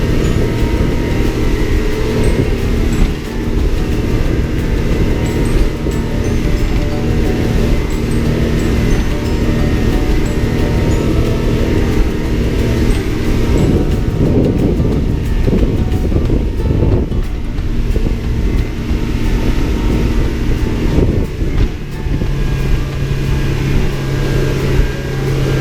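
A big Honda V6 outboard on a boat runs steadily at 4,500 RPM across flat seas, a constant loud drone blended with rushing wind and water noise.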